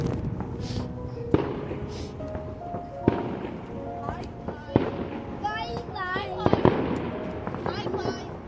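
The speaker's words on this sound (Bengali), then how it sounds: "আশেপাশে কোথাও একটা এই বিকেলবেলাতেই বাজি ফাটানো হচ্ছে" Fireworks bursting somewhere nearby on an afternoon during Hanuman Jayanti in the UK, with sharp scattered bangs and crackles, some whistling, mixed with voices talking close by.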